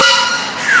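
A short, loud whistle blast from a third-scale 60 horsepower Case model steam engine in a parade, a sharp tone that starts abruptly, fades and rises again within a second.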